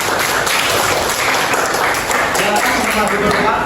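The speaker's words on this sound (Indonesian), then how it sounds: "beri tepuk tangan lagi untuk mereka" Loud, close applause from an audience at an academic supervision coaching session, a dense continuous patter of many hands lasting the whole stretch.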